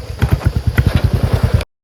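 A Royal Enfield Bullet motorcycle, started without the electric self-start, runs loud and close with a steady, rapid thumping engine beat for a second and a half before cutting off abruptly.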